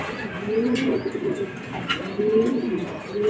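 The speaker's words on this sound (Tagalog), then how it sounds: "Ayan, dalawa mga kalapatid sabay." Racing pigeons at a loft during a derby arrival, cooing in soft repeated low calls close by, over a steady background hum with faint rustling.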